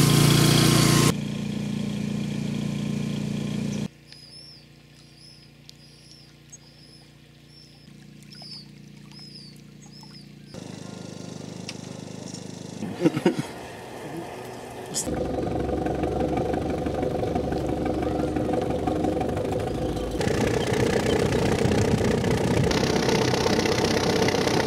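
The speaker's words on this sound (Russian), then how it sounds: "Мы плывем по озеру Байкал на корабле, который называется Вольный." Engine drone aboard the ship Volny sailing on Lake Baikal, a steady mid-pitched hum through several abrupt cuts, alternating between louder and quieter stretches, with voices heard at times.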